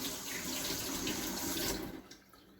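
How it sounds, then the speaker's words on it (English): Hands are rinsed under a running kitchen faucet, a steady close splash of water that cuts off and fades out near the end. "Let me rinse my hands off."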